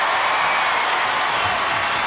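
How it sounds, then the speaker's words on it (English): A crowd applauds and cheers steadily after a free throw at the Sydney 2000 women's wheelchair basketball gold medal match between Australia and Canada, with a broad, sustained wash of clapping and voices. "The crowd shows their appreciation"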